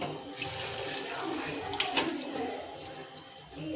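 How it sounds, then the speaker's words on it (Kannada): Tap water runs steadily into a pot for chicken biryani in a home kitchen, a continuous close splashing rush that lasts throughout. "ನೀರು ಹಾಕೊಂಡ್ಬಿಡೋಣ್ರಿ"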